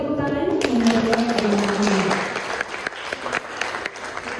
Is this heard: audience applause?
yes